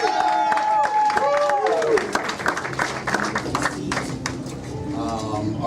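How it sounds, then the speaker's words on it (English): Comedy club audience at a Tacoma comedy venue breaks into loud, sustained applause and cheering, dense clapping filling the room alongside a voice over a microphone. "Let's give a round of applause for Teina Manu, everybody."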